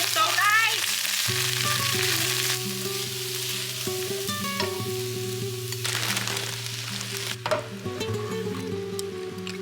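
Food sizzles on a hot home griddle in a steady, close hiss, with clinking and kitchen noise scattered over it, while a few voices talk and music plays in the background.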